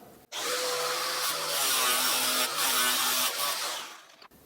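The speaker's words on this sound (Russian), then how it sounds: "Вот попробуем болгаркой." An angle grinder cuts into a front fork part from an Alfa 110 motorcycle during a fork oil change, giving a loud, steady, high-pitched grinding whine that holds for about four seconds with small pitch shifts as the disc bites the metal.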